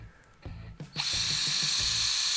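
Nemo cordless hammer drill on its slow setting: a couple of short trigger blips, then a steady, close motor whir that runs on continuously.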